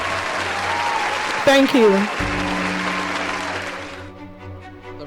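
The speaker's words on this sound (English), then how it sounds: "Please, our applause can be better." Audience applause fills an opening-ceremony hall at the COREN assembly, a steady broadband clatter running throughout. Someone briefly speaks over it, and a held tone sustains near the end as the clapping thins.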